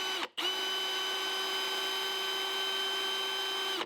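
Drill boring a pilot hole into a metal BMW E34 oil pan during an E30 front sump conversion, a steady sustained whine with a brief stop near the start, loud and close with no talk.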